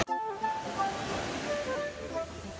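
Ocean waves wash onto a beach on Mauritius, a broad surf roar with soft swells in level, while faint tonal sounds ride above the wash.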